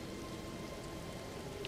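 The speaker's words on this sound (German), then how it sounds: "Ah, es regnet." Rain falls steadily in the video game Elden Ring, a soft, even hiss of drops on surfaces that stays unbroken and fairly quiet throughout.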